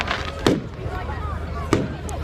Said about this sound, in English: if you have a look at all of the fireworks